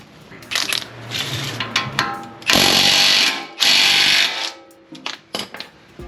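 A power tool breaks loose a large 24 mm bolt during a lower ball joint job on a Toyota Sequoia, giving two loud sustained bursts amid scattered clanks and tool rattles, with no talk.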